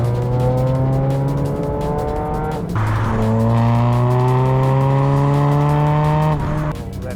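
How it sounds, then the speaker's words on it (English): A 2.0 B47 engine in a track car revs hard, its pitch climbing, dropping briefly, then climbing again in a long sustained howl, close and loud with no voices. "Rev up."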